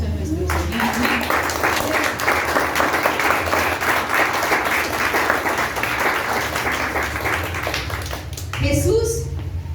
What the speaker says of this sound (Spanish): Un fuerte aplauso a nuestro Señor.